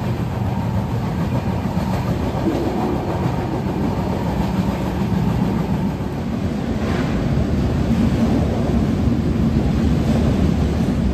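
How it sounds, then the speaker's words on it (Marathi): Heavy monsoon rain pours during a Konkan Railway journey on the Mandovi Express, a loud constant wash mixed with the steady rumble and clatter of the moving train. "बापरे भयंकर पाऊस. अशा पावसातनं आपण प्रवास करतो."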